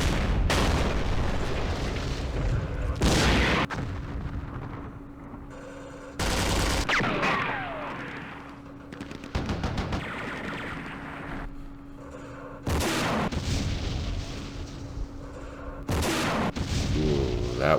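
A recoilless rifle firing on a tank in the Campaign Series Middle East video game, heard as several heavy booming blasts spaced a few seconds apart over a steady engine-like rumble.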